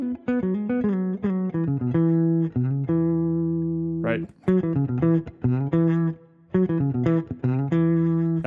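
Electric guitar playing a low pentatonic box pattern, with quick plucked notes and short runs, a brief pause midway, and a single short spoken interjection.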